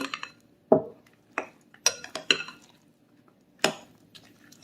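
A spoon works pie filling and squeezed lemon juice together in a bowl for Millionaire Pie, giving a handful of separate clinks and scrapes against the bowl at irregular intervals, close and fairly quiet with pauses between strokes.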